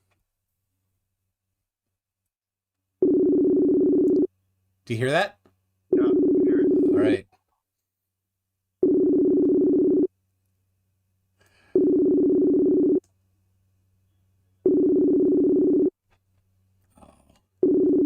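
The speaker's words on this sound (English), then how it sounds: "I'm calling him on Facebook Messenger." A phone ringback tone of a Facebook Messenger call sounds in long, evenly spaced pulses, five or six in a row, with a person speaking briefly between rings.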